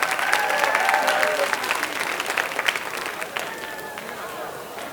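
School audience at a writers' week event gives a round of applause for teachers, loud dense clapping and a few cheers that taper slightly, with faint singing in the background.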